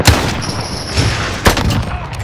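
Loud, close gunfire in the Call of Duty: Modern Warfare video game pops in a few quick shots and short bursts over a constant rumbling battlefield din, with an occasional high whine.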